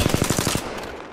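Automatic weapon fire in the Apex Legends video game: a quick burst of about seven evenly spaced, punchy shots lasting roughly half a second, loud and close, then fading into a low ambient wash.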